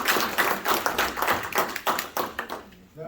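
An audience at a history presentation claps in a dense, uneven patter of hands for about three seconds, fairly loud and close, then trails off at the end.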